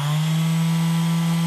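A Bosch orbital sander runs steadily at close range, a constant buzzing hum that cuts off abruptly at the end.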